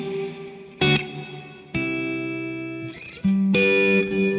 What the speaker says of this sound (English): let's have a look at the Epic reverb